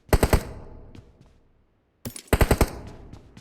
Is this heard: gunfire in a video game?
yes